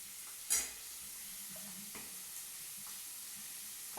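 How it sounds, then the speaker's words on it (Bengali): Potato pieces and garlic fry together in a pan with a faint, steady sizzle, broken by a few soft scrapes and taps of a stirring utensil. "এর মধ্যে আলুর টুকরোগুলো দিয়ে দিচ্ছি, আলু আর রসুন একসাথে করেই দিচ্ছি।"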